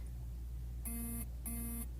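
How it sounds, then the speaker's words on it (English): A mobile phone alert sounds two identical electronic beeps in quick succession, each about a third of a second long, clear over a low steady hum. "Oh, phone's going off, sorry."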